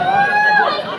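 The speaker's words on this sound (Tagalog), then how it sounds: "Sigawan ng mga tao" A crowd at a close basketball game cheers and shouts together in one continuous, loud burst of overlapping voices.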